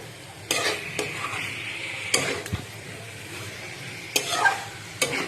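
Mutton curry being stirred in a pan with a spoon, giving intermittent scraping clinks over a soft sizzle of frying spices, near and alone.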